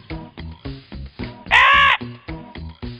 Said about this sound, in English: there lived a crow.